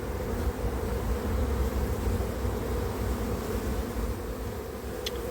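Honeybees buzz steadily at an open hive during a brood inspection, a dense continuous drone close by with no voices, holding an even level throughout.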